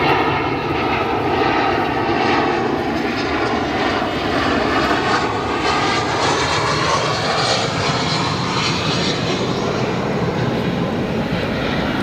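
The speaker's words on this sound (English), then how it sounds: "Our next arrival here, United Airlines, very old A320, 29 years of age." A 29-year-old United Airlines Airbus A320 arriving at Chicago O'Hare from Kansas City, its engines giving a steady, loud roar with a broadband whine that holds evenly throughout, no voices present.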